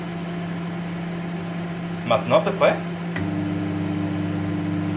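A household microwave oven with only its fan and light running gives a steady low hum. A click then switches on a deeper, louder, constant drone. Someone speaks briefly over the hum before the switch.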